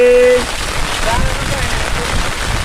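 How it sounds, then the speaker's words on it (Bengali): Heavy rain pours steadily onto a rural village setting where shrimp are being caught with bamboo traps, a dense broadband wash that runs throughout after a brief tonal sound at the start. "অনেক পরিমাণ বৃষ্টি হইতেছে একবারে"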